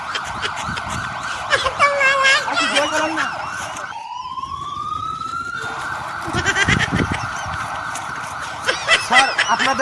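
An ambulance siren wails in rising, swooping tones for a couple of seconds in the middle, set between busier stretches of other noise in a comic crime sketch.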